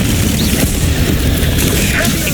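Incendio fire spell cast in Hogwarts Legacy during a fight with spiders, heard as a loud, dense burst of booming, crackling fire blasts that fills the whole moment, with a voice speaking over it.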